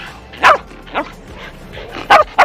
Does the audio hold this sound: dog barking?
yes